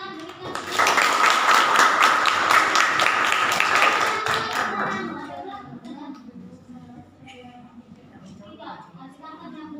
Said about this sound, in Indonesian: Ya, tepuk tangan berikan.